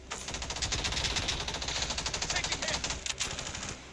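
Gunfire in a shooter video game: rapid automatic bursts rattle in quick, dense succession for several seconds, fairly faint, with a player's voice present in the background.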